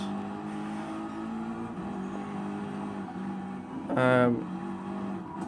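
A BMW M6 GT3 race car in Gran Turismo Sport sustains a steady engine drone during a race at Dragon Trail, with a short rising rev burst near the end, while someone talks over it.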